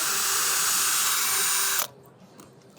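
A 4-in-1 power drill tool whirs steadily at high speed for about two seconds while pre-drilling, then stops abruptly, leaving quiet room tone and a faint bump.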